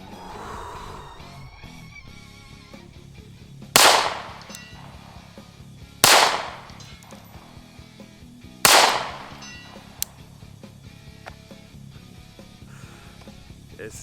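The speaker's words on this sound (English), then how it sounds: "a couple rounds with the Staccato P." Three loud, sharp pistol shots from a Staccato P fitted with a Vulcan Machine Werks Ignis port, spaced a few seconds apart, each ringing out briefly, followed by a faint metallic click.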